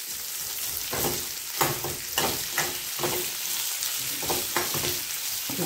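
Onions sizzling and frying in a pan while being lightly cooked for a shahi paneer base, a steady close crackle with intermittent stirring scrapes throughout and no talking.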